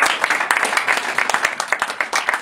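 A church congregation claps in praise, a crisp, lively burst of many hands with sharp individual claps standing out, close and loud and without talk.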